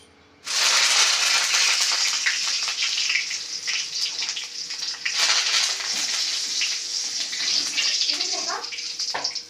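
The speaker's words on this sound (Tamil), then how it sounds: "இப்போ கருவேப்பிலை பொரிச்சிக்கலாம்" Curry leaves crackle and sizzle loudly in hot oil after fried chicken 65, a steady hissing, popping fry that starts abruptly and runs on close up with no voices.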